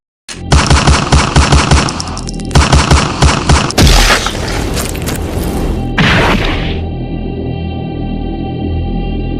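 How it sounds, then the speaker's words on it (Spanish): Rapid gunfire in a Hunter x Hunter anime scene: loud bursts of automatic shots in quick rhythmic volleys, then heavy booming impacts, fading into a sustained ringing hum, with no talking. "Este se la juega y le dispara."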